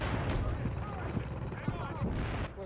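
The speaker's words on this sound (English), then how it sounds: "Damn grenades." Grenade explosions in a shooter video game set at Grand Central Station on hard difficulty, heard as several dull booms and rumbling blasts. They are fairly faint and sit among battle noise, with a voice talking over them.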